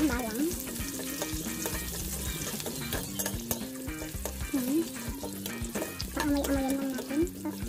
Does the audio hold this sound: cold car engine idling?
no